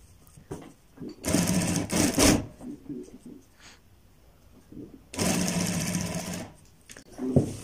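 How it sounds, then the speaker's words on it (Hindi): Sewing machine stitching a kurta lining, running in two bursts of steady whirring a few seconds each with quiet handling and pauses between, close and fairly loud. "अपनी जो सिलाई है वो एंड तक मुकम्मल कर लेनी है"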